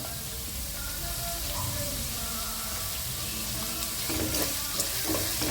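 Onion fries in a pan for a flattened rice (aval) upma, giving a steady loud sizzle that carries through without a break, with a few stirring clinks near the end.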